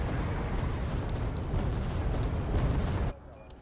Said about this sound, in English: More artillery bombardments.